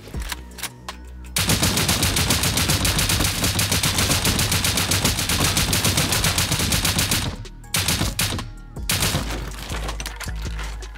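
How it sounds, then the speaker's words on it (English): Sustained automatic gunfire in a raiding video game, 5.56 rounds chewing through twig and sheet-metal base walls, a loud rapid burst running several seconds, a brief pause, then more shots. "Let's start shooting this stuff down and seeing what the actual base is looking like."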